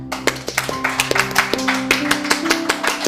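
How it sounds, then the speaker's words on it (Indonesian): Scout-style rhythmic clapping (tepuk pramuka) by a group on a police podcast set, patterned bursts of claps in a quick beat with sustained tones held underneath. "Sekali-kali dong tepuknya spesial,"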